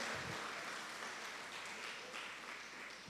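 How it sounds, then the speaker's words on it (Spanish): Faint, steady applause from a church congregation for a group of young people fills the whole stretch, an even wash of many hands clapping heard from a distance. "Un fuerte aplauso para estos jóvenes, decididos y valientes"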